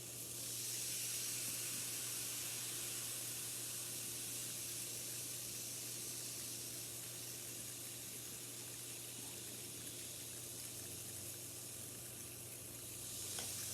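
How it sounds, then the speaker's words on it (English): A model volcano fizzes and bubbles in a continuous, even hiss, close and fairly quiet, with no voices over it. "it's making all kinds of bubbly noises in here"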